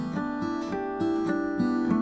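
Harp-harmonic arpeggio on guitar, starting with a regular note on the open fourth string, then alternating bell-like harmonics and open strings. Clear plucked notes, each ringing into the next in a steady, flowing pattern, close and fairly quiet.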